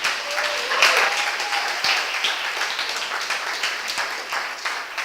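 Audience applause at a 2024 pediatric innovation day event in Riga, a dense burst of clapping that starts strong, then holds steady and gradually thins, fairly close and loud, with no speech over it.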